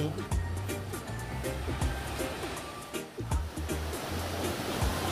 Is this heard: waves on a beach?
yes